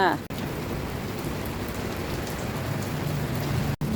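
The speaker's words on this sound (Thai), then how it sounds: "ฝนตกตกอย่างนี้" Dense, steady rain falls continuously, a loud hissing patter throughout with two brief dropouts.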